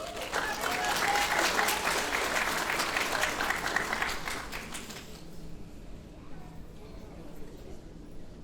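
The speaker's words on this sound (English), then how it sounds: "Let's give her a round of applause." Audience applause fills a graduation ceremony hall, dense and steady for about five seconds before fading into softer scattered clapping and murmuring.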